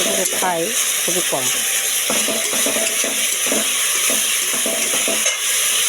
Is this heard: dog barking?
no